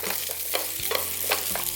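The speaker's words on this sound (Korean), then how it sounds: "이렇게 얄팍하게 감자를 썰어 가지고 양파부터 볶은 후에 이 양파의 향이 요 버터하고 어우러져 가지고 그 맛에, 그 향에 감자를 입혀주세요." Thin-sliced potatoes and onion sauté in butter in a pan, giving a steady close sizzle with soft stirring scrapes at a few points, no voices.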